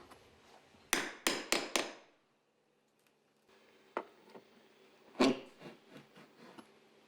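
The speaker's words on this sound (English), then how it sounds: "As the opposite end of the tool is pushed downward, the buried nail is pulled to the surface." A Tiger's Paw nail puller prying buried nails out of wood trim, a quick run of four sharp knocks followed after a pause by scattered thuds and creaks, close and fairly quiet.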